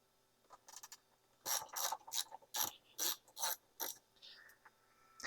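A hand ratchet clicks close up in a quick series of sharp, rhythmic bursts while loosening T20 Torx screws near the fuel filler neck of an Aprilia Tuareg motorcycle.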